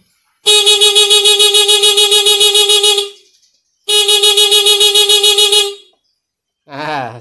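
Two long, loud vehicle horn blasts from a horn fitted with an added battery, each about two and a half seconds with a pulsing tone, followed by a brief wavering electronic chirp.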